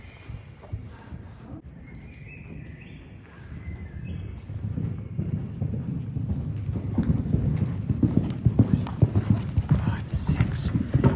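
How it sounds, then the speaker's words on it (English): A young horse canters in a showjumping lesson over poles and jumps, its hoof beats thudding in a steady three-beat rhythm that grows louder and closer, with speech and faint birdsong in the background. "You see the total difference in your canter there as well."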